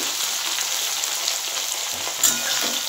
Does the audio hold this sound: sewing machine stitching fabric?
no